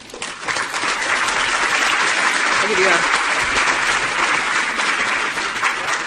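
Sustained audience applause welcoming Tiff Macklem at a conference, dense and steady clapping from a full room for about six seconds, fading slightly at the end.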